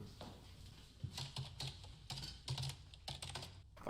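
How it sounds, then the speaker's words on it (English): Fast, hard typing on a computer keyboard in The Wire, irregular bursts of sharp clacks close up with brief pauses between, alone with no talk. "Fucking typing angrily."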